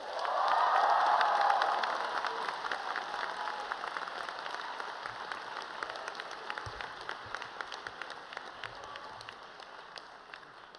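Sustained applause from a graduation audience greeting faculty speaker Richard Geller at Stuyvesant High School, swelling loudest at the start with some cheering and then settling into steady clapping that slowly thins out.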